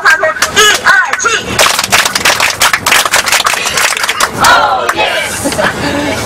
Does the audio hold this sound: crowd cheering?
yes